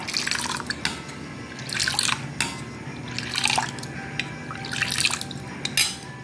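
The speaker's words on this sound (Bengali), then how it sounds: "দুধ ঠান্ডা হয়ে গেছে উষ্ণ গরম আছে এখন অল্প আঙুল দেওয়ার মতো গরম একটু ফেটিয়ে নেবো" Warm milk is whisked in a bowl, producing repeated wet swishing and sloshing strokes that swell and fade in a loose rhythm, close and moderately loud, with no voices.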